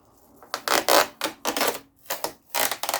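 Rubber strips peel off the underside of an HP laptop in short, close, rasping tears. Several quick bursts are separated by brief pauses.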